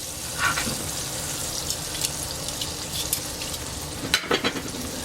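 Chicken fried steak sizzles steadily in a hot pan, with a few louder pops and clatters near the end and no talking.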